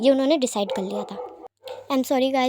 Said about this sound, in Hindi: पीछे से कुत्ते की भौंकने की आवाज़ आ रही है।